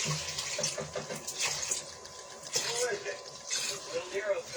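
A cup and a half of water splashes and pours steadily into a container, a continuous gurgling rush with some faint background voice.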